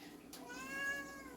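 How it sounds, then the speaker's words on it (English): A domestic cat meows once with a drawn-out, wavering cry, close and clear in a quiet room, with a soft background hum and a faint voice nearby. "The cat is missing his children."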